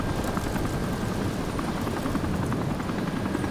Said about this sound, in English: I want to take a ride on your helicopter that's leaving right now